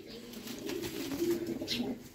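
Golden teddy pigeons of the Sadhna breed coo softly, a low, gentle rolling call close by in a quiet setting, with no voices.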